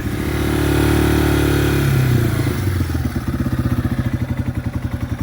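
A Yamaha TW motorcycle engine idles steadily, then revs up and pulls away, its single-cylinder exhaust settling into a loud, rhythmic thumping putter close by while riding.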